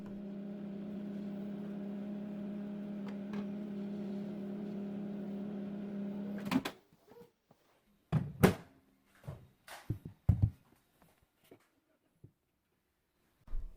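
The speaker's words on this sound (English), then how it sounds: "Now I'm just going to microwave it for about 15 to 20 seconds" A microwave oven's steady hum runs for several seconds, then stops with a click, followed by a few scattered knocks and clatters.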